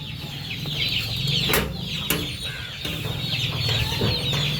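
Chickens cluck continuously in a lively coop, with higher chick peeps mixed in and a couple of sharp knocks; no voices.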